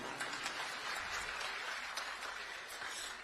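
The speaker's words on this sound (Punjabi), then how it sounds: "ਇੱਕ ਵਾਰੀ ਆਪਣੇ ਆਪ ਲਈ ਜ਼ੋਰਦਾਰ ਤਾੜੀਆਂ ਮਾਰ ਲਓ" Audience clapping at a public government event in Punjab, a dense, steady wash of many hands sustained throughout at moderate level, with no speech over it.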